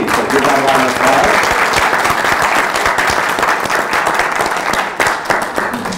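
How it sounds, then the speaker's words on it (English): Loud applause from an audience at a community mayoral forum, dense clapping with some cheers sustained throughout, a voice briefly audible beneath it. "So give them a round of applause."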